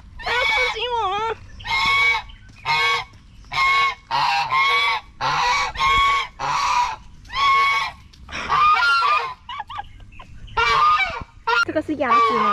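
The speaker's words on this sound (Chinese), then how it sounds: "鸭子的叫声好难听哦。" Ducks crossing a road in Hualien, Taiwan, give loud, harsh honking calls close by. The calls come in repeated bursts with short pauses between them.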